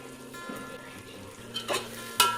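A spoon stirs a soybean biryani mixture of cooked potatoes, kasuri methi and coriander in a pan, giving a low steady sizzle broken by two short, sharp scraping strokes near the end, with no talking.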